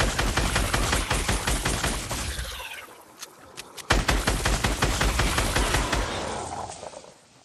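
Fortnite gunfire: rapid bursts of automatic shots crackling close and loud, a brief lull near the middle, then a sharp crack followed by more steady rattling fire, with no one talking.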